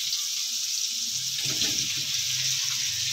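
A kitchen tap runs steadily while something is washed under it, with a broad continuous hiss of water and a brief splash near the middle, close by.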